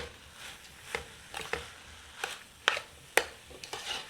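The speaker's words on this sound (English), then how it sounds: "We'll stir it well, make sure it's not sticking at the bottom, nothing's burning." Beef and black-eyed peas pelau is stirred in a pot, giving soft scraping and occasional sharper spoon clinks against the metal over a faint background sizzle, with no talk.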